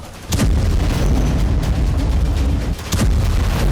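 Loud, heavy explosions from bombing near a hospital in Gaza, with a deep booming blast at the start and another near the end over a continuous roar of rumble and debris.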